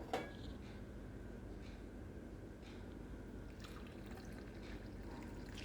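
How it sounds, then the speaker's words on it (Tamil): Hot dry ginger and turmeric milk is strained into a cup, a faint, continuous trickle and pour with a few soft drips and splashes, quiet and steady throughout with no talk. "அப்புறமா பாலை நம்ம கப்பில் வடிகட்டி எடுத்துப்போம்."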